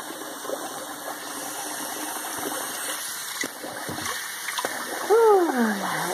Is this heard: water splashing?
yes